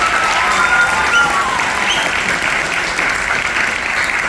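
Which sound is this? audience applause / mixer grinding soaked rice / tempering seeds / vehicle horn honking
audience applause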